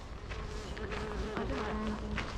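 A bee buzzing close by at an open-air museum in Pyrohiv, Kyiv, with a steady, wavering drone, no voices present.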